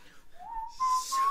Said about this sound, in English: The whistle you get in the game, the whistle that takes you to the b-ball dimension